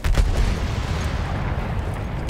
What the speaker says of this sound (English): rockets are just launching into the sky